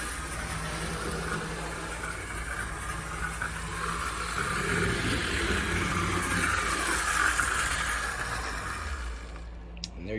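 An HO scale Athearn Blue Box GP35 model locomotive in Illinois Central paint runs its small motor with a faint, continuous whir and hum that swells slightly before cutting off near the end.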